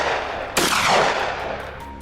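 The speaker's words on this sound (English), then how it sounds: "We couldn't miss the opportunity and opened fire together." During a mountainside hunt for invasive wild boars, a single loud gunshot cracks out sharply and fades in a ringing, echoing tail.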